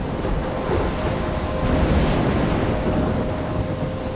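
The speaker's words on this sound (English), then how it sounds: "I'm trapped in a storm?" A thunderstorm with heavy rain in the video game Life is Strange: dense, continuous rain roar with low thunder rumble, loud and steady throughout, no voices.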